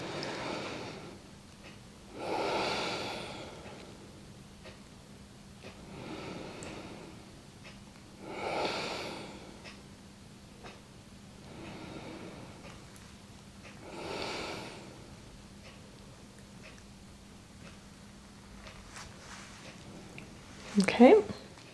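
Slow, deep breaths drawn in and let out during an abdominal massage in a kinesiology therapy session, three long breath swells spaced several seconds apart, close and soft, ending in a brief sharp rustle.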